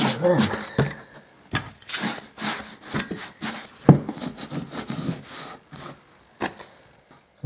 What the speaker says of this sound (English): I'm just going to give that a light sand